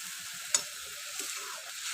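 Ground masala hits sizzling curry leaves in a pan for kingfish curry, giving a steady bright hiss with a sharp clink of the stirring spoon and softer scraping as it is mixed.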